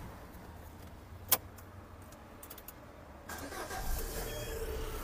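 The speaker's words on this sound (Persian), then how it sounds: "همونطور که میبینید خودرو به راحتی روشن شد." A Peugeot 206 with a faulty CAN network and ABS unit is started after a temporary bypass. A faint click and key jingle come first, then the engine turns over and settles into a quiet, steady idle.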